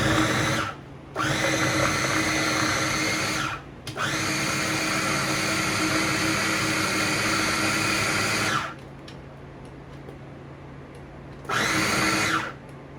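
A food processor chops green seasoning in steady loud bursts, whirring continuously for several seconds with brief pauses between pulses and no talk.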